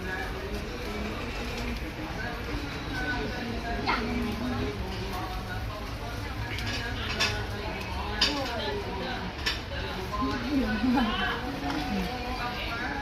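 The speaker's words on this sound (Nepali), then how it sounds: "के छ भाँडाकुँडा" Pots, pans and utensils clatter at a local market stall, scattered light metallic clinks and knocks under steady nearby conversation and chatter.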